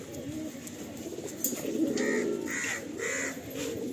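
Pigeons of an old nasal giribaj breed coo softly in a loft, with low burbling calls repeating throughout and occasional faint higher chirps, close and steady, with no talk over them.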